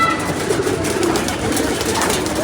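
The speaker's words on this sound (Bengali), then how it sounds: "উপর থেকে এই যে এক কবুতর" Soft, low pigeon cooing repeats close by in a steady murmuring rhythm over a busy background hum.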